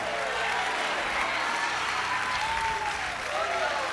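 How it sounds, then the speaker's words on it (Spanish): Loud, sustained applause fills a church service as a congregation claps for the Lord, a dense steady wash of hands with some crowd voices mixed in. "Denle el aplauso fuerte al Señor"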